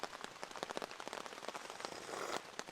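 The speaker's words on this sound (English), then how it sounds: "enjoying the light little pitter patter. Very light rain right now" Light rain patters on a camping shelter, a faint scatter of quick irregular drips and taps over a soft background hiss.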